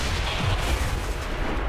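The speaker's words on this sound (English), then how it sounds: "And we get an extra explosion there as well." An explosion in XCOM 2, the War of the Chosen expansion played on PS4 Pro, sounding as a dense, rumbling low burst with crackling debris that holds loud for under two seconds.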